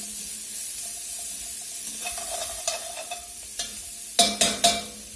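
Chopped vegetables sizzle softly in olive oil in a pan with a steady frying hiss, then a few sharp scraping stirs of a utensil against the bottom near the end, close by.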